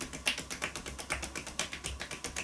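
Quick, even percussive taps from striking with the back of the hand during a massage, a steady stream of soft, close slaps at about five per second, faint and without speech.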